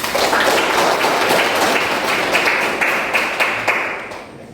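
A classroom full of people clapping during a lesson, a dense continuous patter of hands that holds steady and begins to thin toward the end.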